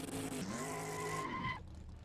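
Race car engine in the Assetto Corsa racing game on the Nordschleife, a loud steady high-revving drone with shifting harmonics and some tire skid, then cutting off abruptly near the end.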